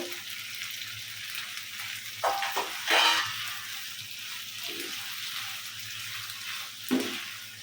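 Tomatoes go into a hot frying pan for cheese pasta, bringing a steady close sizzle with a louder burst of hissing and stirring about midway and another short flare near the end. No voices.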